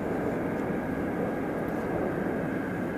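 A jet aircraft going around at Ted Stevens Anchorage International Airport gives a loud, continuous broadband engine roar that holds steady throughout, with no speech over it.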